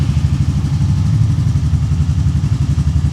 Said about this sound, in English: let's go for this view here and start up the engine.